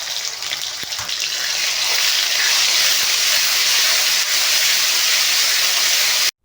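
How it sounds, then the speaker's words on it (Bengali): Urad dal fries in hot oil for a village-style banana flower curry, producing a loud, steady, close hissing sizzle that runs unbroken for several seconds before cutting off abruptly. "তো তেল গরম হয়ে আসলেই তার উপরে দিয়ে দিতে হবে কলাইয়ের ডাল।"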